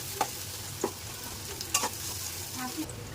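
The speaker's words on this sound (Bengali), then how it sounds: "পেঁয়াজটা ভাজা হয়ে গেছে" Onions frying in a pan, a close, continuous sizzle with a few sharp scrapes and clicks of stirring at irregular intervals.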